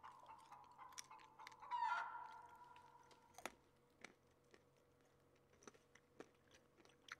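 A chicken in the video game SCUM gives a short, faint burst of clucking amid quiet game ambience, followed by scattered soft clicks and taps.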